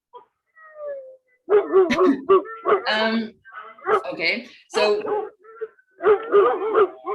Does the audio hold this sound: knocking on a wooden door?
no